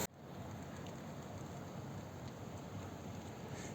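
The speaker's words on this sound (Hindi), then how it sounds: "बारिश बड़े ज़ोर शोर से हो रही है, हर तरफ कीचड़ हो चुका है।" Heavy rain pours steadily outside a camp in a Neelam Valley village, a dense, even hiss that continues unbroken with no voices.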